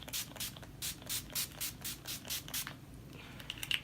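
A fine mist of makeup setting spray sprays in a quick series of short, even hissing bursts, about ten in a row, fairly close, then a few faint taps.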